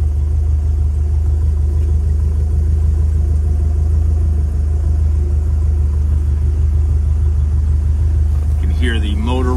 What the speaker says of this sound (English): Hear the motor running